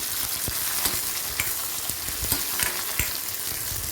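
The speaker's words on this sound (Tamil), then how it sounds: "நல்லா இது பொன்னிறமாக வதங்கிட்டோம் அது வரைக்கும் வதக்கலாம்" Small onions sautéing in a pan until golden for a Tamil greens masiyal, with a steady sizzle and occasional sharp clicks and scrapes of a spoon stirring, close and continuous with no talk.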